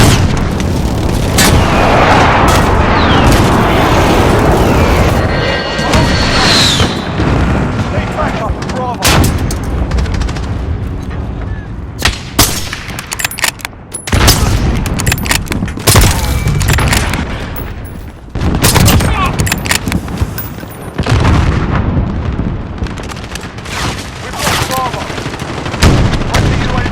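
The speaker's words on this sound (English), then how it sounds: "Be advised, friendly precision airstrike." Precision airstrike explosions and heavy gunfire in a shooter video game, loud repeated booms and rattling volleys crowding together, with brief lulls between clusters of blasts.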